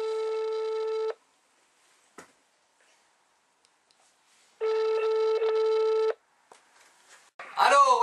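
Telephone ringing tone on a call placed from a studio control room, two long steady rings separated by a gap, followed by a brief voice answering at the end.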